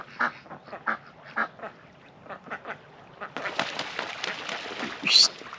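Ducks on a farm quacking repeatedly in short nasal bursts, several birds close by, with a busier overlapping chorus joining partway through.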